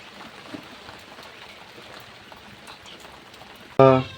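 Heavy rain pours in a dense, continuous hiss close by, steady throughout, ending with a sudden louder burst of sound in the final moment.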